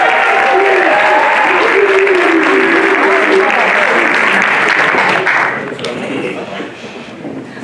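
An audience at a speech competition breaks into sustained applause, loud and steady, then fades somewhat toward the end, with some voices mixed in.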